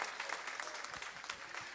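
A church congregation claps together in continuous, dense applause through an evangelical service, a steady crackle of many hands with no pauses, close and moderately loud.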